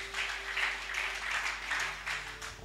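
A church congregation applauding the word of the Lord, a steady wash of clapping in rhythmic swells, moderately distant and continuous throughout.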